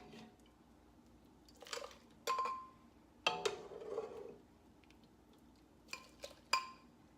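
Clinks and scrapes of a ladle against a metal pot while scooping hot broccoli soup, with a soft pour and splash between a few sharp taps.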